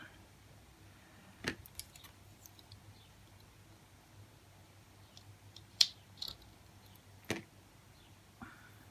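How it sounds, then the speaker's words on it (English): Scissors snip at flowers in a quiet living room, giving a few sparse, sharp clicks and cuts separated by long pauses. "Maybe I should cut it more."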